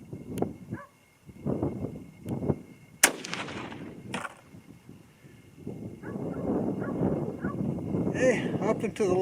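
Sharp, loud rifle report from an 8mm Mauser 8x57mm firing a handloaded cartridge, a single crack standing out amid nearby talk and outdoor noise.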